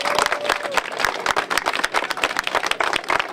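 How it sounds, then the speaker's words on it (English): An audience at a school sports field dedication breaks into dense, steady applause, many hands clapping close by for a few seconds. "Let's give him a round of applause."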